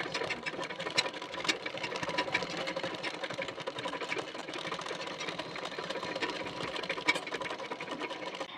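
A sewing machine stitches a pressing seam along the edge of a nylon piece, a steady close rattling whir that runs continuously without pause.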